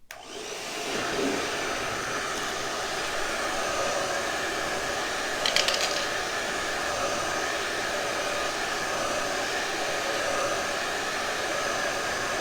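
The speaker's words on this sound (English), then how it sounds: "so we'll blow dry this" A hair dryer blows steadily and loudly at close range while drying a handmade snowman craft, a continuous whooshing airflow with a brief rattle midway and no talking.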